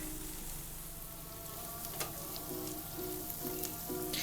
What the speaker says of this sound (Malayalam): ഇത് നന്നായിട്ടൊന്ന് ഇളക്കി നമുക്കിതൊന്ന് നന്നായിട്ട് വഴറ്റിയെടുക്കാം.